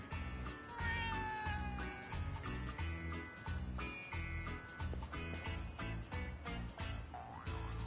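Stray cats meow repeatedly in the game Like a Dragon, a string of clear, close mews with bird-like chirps mixed in, set over a steady rhythmic musical background.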